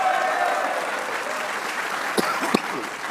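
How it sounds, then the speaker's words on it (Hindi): Studio applause following a cricket discussion, a steady wash of clapping from an audience at moderate loudness, with a couple of sharp louder claps near the end. "एक बार इस परफॉर्मेंस पे शाहीन के लिए तालियां होनी चाहिए।"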